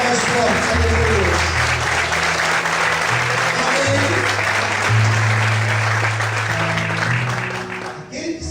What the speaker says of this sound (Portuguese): Você cada vez aplauda mais forte,